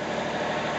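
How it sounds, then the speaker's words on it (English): A Volvo marine engine running a little above idle while an Electromax 140 amp alternator charges a battery bank, a steady, even rumble heard close with no talk. "we're a little above idle right now with this Volvo engine"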